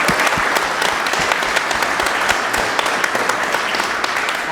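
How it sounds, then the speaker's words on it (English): A live audience gives a round of applause for Julian Brown, dense and loud steady clapping throughout. "let's give a round of applause to Julian"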